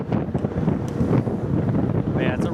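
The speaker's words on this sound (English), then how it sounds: "it's a rough, windy day out here" Wind buffeting a microphone on a boat at sea on a rough, windy day with about three-foot seas, a loud low rumbling gust noise with engine and water sounds underneath and a brief higher tone near the end.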